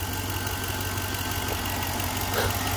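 A half-ton truck engine idles after a jump start, giving a steady, close low rumble with constant mechanical hum and no breaks over the short stretch.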